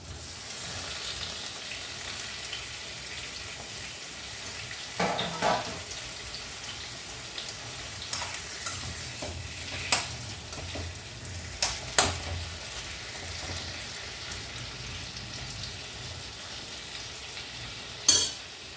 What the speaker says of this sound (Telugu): ఇప్పుడు మనం ఇందులో ఈ టమాటాలు వేసేసుకుందాం